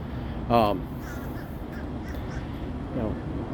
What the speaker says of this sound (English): I got a bird coming in.